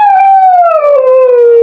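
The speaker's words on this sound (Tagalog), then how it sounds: "Pag-alulong ng aso." A single long, mournful dog howl that slowly glides downward in pitch, loud and close, with nothing else behind it.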